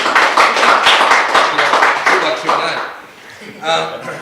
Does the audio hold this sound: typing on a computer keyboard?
no